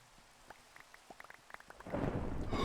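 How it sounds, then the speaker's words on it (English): Thunder in Minecraft during a hardcore survival session: scattered light raindrop ticks, then a loud, broad rumbling roll that swells and holds to the end, with no talk. "I want to hear if there's thunder suddenly."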